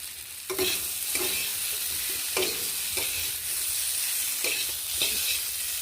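Fried bamboo shoot and taro sizzle steadily in a hot pan with oil while a spatula stirs and scrapes at intervals, producing soft periodic clatters over a constant frying hiss.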